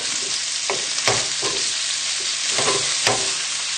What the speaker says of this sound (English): pop in the tagliatelle and then give this a nice stir together